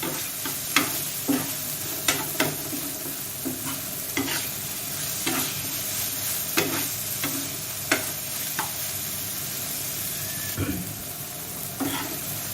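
Mutton liver with green chilies fries on a hot tawa with a continuous close sizzle. Sharp, regular scraping taps from stirring recur roughly every second.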